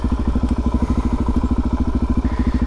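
Motorcycle engine revving hard through a beginner wheelie, loud and close, with a fast steady pulsing exhaust beat held for the whole stretch and no voices.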